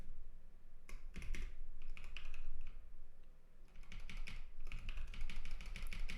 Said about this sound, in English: It's an annoying amount of typing,